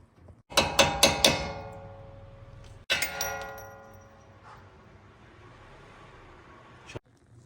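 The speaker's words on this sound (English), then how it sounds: "Now all we have to do is hammer this out of out of this hub." Sharp metallic hammer strikes ring out close by, driving a wheel stud out of a car hub: a quick burst of four blows, a pause, then a couple more, each leaving a ringing decay.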